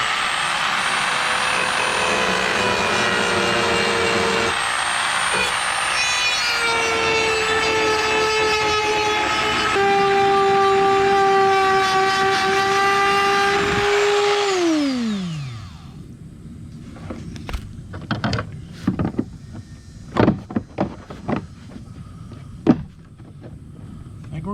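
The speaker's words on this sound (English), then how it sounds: "we got our drum sander on our Dremel" A Dremel rotary tool with a drum sander cleans up cut edges during a hatch install, a loud steady high-pitched whine for about fifteen seconds that shifts pitch under load, then spins down, followed by scattered clicks and knocks.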